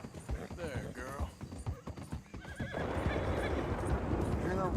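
A horse, an Arabian mare, whinnies and clip-clops in a video game set around Saint Denis, with hooves thudding in a steady gait under a busy ambient bed and speech-like chatter running throughout.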